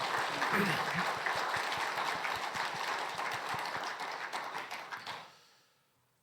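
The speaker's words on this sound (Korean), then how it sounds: "우리 그런 의미에서 하나님께 영광의 박수를 한번 올려드리도록 하겠습니다." Church congregation clapping in praise of God, a dense, sustained round of applause with a faint voice underneath, holding for about five seconds before cutting off into near silence.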